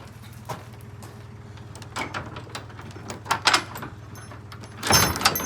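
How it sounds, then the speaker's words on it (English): Large workshop doors are pushed open, giving rattling clunks and scraping rolls over a steady low mechanical hum, with a louder rumbling slide near the end. "Okay, I'm going to open the big doors."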